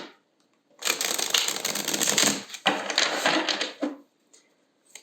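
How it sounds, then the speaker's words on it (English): Tarot cards shuffled by hand in a few quick riffling bursts, crisp papery flutters close up with short pauses between them, no talking. "Let's shuffle."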